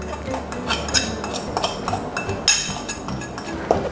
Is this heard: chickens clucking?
no